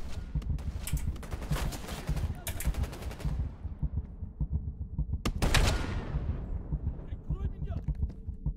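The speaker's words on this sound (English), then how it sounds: "Who's shooting me?" Gunfire from the Call of Duty Cold War video game comes in rapid automatic bursts and scattered sharp shots with echoing tails, loud then fading, and someone speaks briefly between them.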